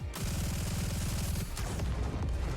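Rapid bursts of gunfire from characters in the video game Nikke: Goddess of Victory, a loud dense volley of repeated shots with a brief pause midway, then more heavy booming fire.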